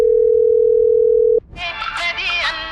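A telephone tone sounds as one steady, loud electronic note, then cuts off abruptly, and voices or other sounds follow.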